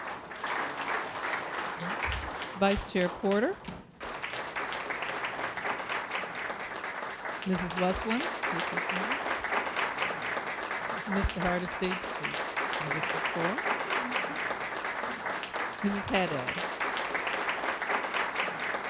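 An audience at a school board recognition ceremony applauds board members with sustained clapping, while a man announces names over it and a brief lull breaks the applause.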